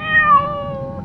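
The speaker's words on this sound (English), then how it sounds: "he noticed a cat meowing by the temple gate" Cat meowing by a temple gate in old Japan, one clear, close, drawn-out meow with a rising then falling pitch, alone with nothing else heard.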